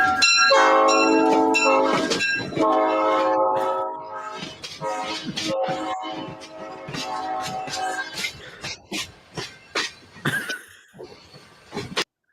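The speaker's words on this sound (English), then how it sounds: "That's a good train noise." A recorded train rumbles past with long, loud blasts of its horn, played back over a podcast stream; the horn fades after several seconds into clattering bursts and rail noise.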